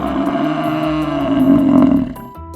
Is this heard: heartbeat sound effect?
no